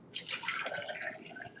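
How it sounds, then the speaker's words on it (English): Water poured into a glass pickle jar for lacto-fermented dill pickles, a short, close, steady splashing gush that fills the jar briefly. "pour in some of the water"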